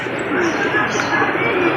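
Pigeons cooing softly in a rooftop loft, a low steady murmur of coos under a continuous background hum, with no voices.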